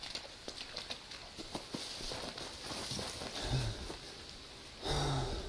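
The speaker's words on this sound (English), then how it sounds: "Getting plenty of rain" Rain falls in the survival video game Green Hell, a soft continuous patter with scattered small taps, growing to a louder wash near the end.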